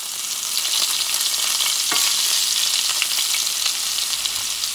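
Butter sizzles steadily in a hot pan beside a peppercorn-crusted steak au poivre, a continuous close, bright frying hiss with faint crackles and one brief utensil scrape, no voices.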